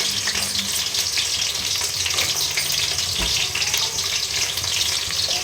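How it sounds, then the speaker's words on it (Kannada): Sliced onions frying in a pan for a capsicum chicken dish, a loud, dense, continuous sizzle heard up close with occasional stirring scrapes, no voices. "ಅದರಲ್ಲಿ ಒಂದು 4 5 ಈರುಳ್ಳಿನ ನಾವು ಫಸ್ಟಿಗೆ ಹಾಕ್ಕೊಂಡು ಚೆನ್ನಾಗಿ ಫ್ರೈ ಮಾಡ್ಕೋಬೇಕಾಗುತ್ತೆ."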